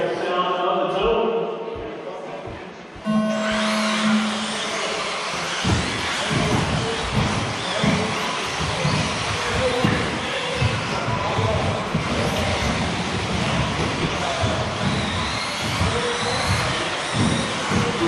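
Nitro-powered 4WD RC buggies, one fitted with a 3.5 engine, race around a track, their engines a loud continuous buzzing whine that rises and falls as cars pass, with crowd noise in the background after a brief quieter start.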